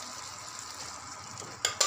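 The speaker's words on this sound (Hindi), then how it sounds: "फ्राई पैन में हमने दलिया को ऐड कर लिया है।" Dalia khichdi cooking in a frying pan, giving a soft, steady sizzle with light stirring scrapes and two brief clinks of a utensil against the pan near the end, all fairly quiet.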